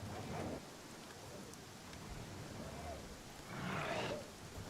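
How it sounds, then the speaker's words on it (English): Steady rain hiss from a stormy weather effect in the fantasy role-playing game Pathfinder: Kingmaker, fairly faint and continuous, with a louder rumbling swell near the end that suggests distant thunder. "Oh, it's storming. It's raining."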